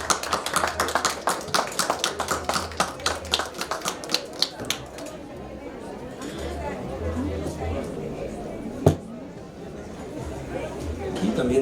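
Audience at a round-table book-day event in Chapingo applauding a speaker, brisk sparse claps for about five seconds that fade into murmured chatter, with talk in the room.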